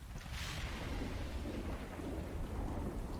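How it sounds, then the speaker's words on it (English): Heavy rain pours down with a deep rumble of thunder, a dense and continuous storm wash used as ambience for a Dungeons & Dragons tabletop game. "It's raining pretty hard."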